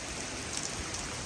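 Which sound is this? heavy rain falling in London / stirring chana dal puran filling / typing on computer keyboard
heavy rain falling in London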